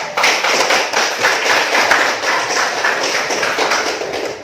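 An audience at a school coaching and supervision session claps in applause, a dense, continuous patter of many hands at fairly close range that holds steady for several seconds without talk.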